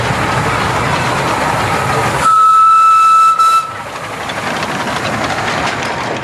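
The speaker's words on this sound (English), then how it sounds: "And the famous train." Train at Currumbin Wildlife Sanctuary rumbling past with a loud steady rolling roar, a sharp whistle blowing for about a second partway through, then the rumble continuing, nearby and strong.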